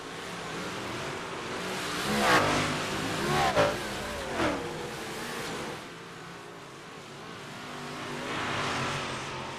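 Race cars battling for the lead in iRacing at Snydersville Raceway, engines revving and surging in waves, close and loud, with no talk over them.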